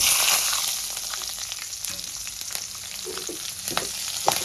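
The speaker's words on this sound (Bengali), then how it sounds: "আমি এর মধ্যে ফোড়নে দিয়ে দেব কাঁচা লঙ্কা এরকম সাত আটটা কাঁচা লঙ্কা নিয়েছি আর কালো জিরে" Seven or eight green chilies and nigella seeds fry in hot oil for a fish curry, giving a close, loud, steady sizzle with a few crackles and stirring scrapes, and no talk.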